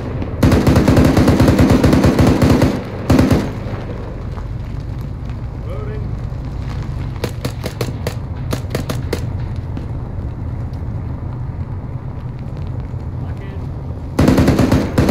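Loud bursts of automatic gunfire in the military shooter ArmA 3 come in long rattling volleys at the start and end, with scattered single shots and softer firing between, while voices talk over the action.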